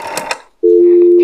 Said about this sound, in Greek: άσε με μία να πάρω τηλέφωνο εδώ